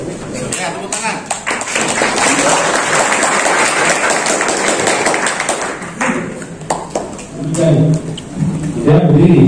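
Loud, dense applause from an audience at a university orientation event, steady for several seconds before breaking up into scattered claps, with voices rising over it near the end.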